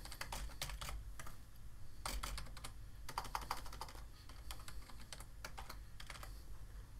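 Keys clatter on a computer keyboard as a username is typed, quiet, close clicks in quick bursts with short pauses between them.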